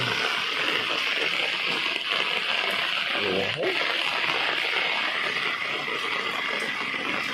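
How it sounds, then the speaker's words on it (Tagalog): Water flows in a street drainage canal under construction on San Jose Street, San Ignacio Subdivision, Pandan, with a steady, continuous close rush that does not let up. A voice may be faintly present under it. "Maayos naman yung agos ng tubig dito. Yung tubig ng kanal natin."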